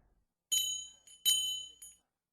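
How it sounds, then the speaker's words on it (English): A bell rings twice in a quiet room, each bright metallic ring trailing off over about half a second, with a short faint ding after each one. "Then a bell began to ring."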